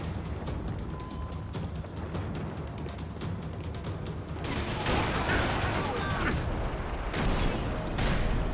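Gunfire crackles in a shootout in the video game Max Payne 3, then a heavier burst swells as a door explodes, dense and layered.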